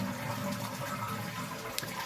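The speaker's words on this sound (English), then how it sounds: "I'm actually gonna hold and flush this" A toilet held down and flushed to empty its tank while a bidet is installed, producing a continuous close rushing of draining water that stays steady throughout.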